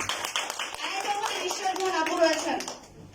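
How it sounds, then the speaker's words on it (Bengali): An audience at a women's DXN business gathering claps loudly and steadily, the applause heard under an energetic speaking voice throughout. "তার জন্য জোরে করতালি"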